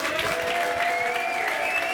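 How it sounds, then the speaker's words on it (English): A comedy club audience at The Stand in Glasgow claps and cheers continuously for a comedian coming on stage, a dense, loud, steady wash of hands and voices with no break. "Give him some clapping and cheering, Glasgow."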